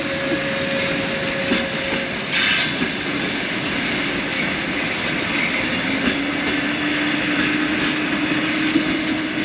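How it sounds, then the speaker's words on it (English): An old Ukrainian train rumbles past near Przemyśl station in Poland with a constant roar and rattle, thin metallic wheel squeals rising and fading over the steady noise. "That is some ancient Ukrainian train here in Poland."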